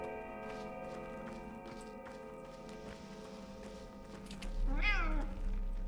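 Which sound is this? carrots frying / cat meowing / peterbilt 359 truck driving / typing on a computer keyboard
cat meowing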